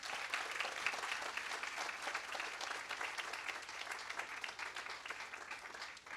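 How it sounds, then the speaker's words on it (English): An audience at a school fifth-grade moving-up ceremony claps for a board leader, a sustained, even wash of applause heard from some distance and fairly quiet, with no talking over it. "I want everyone to give a round of applause to Ms."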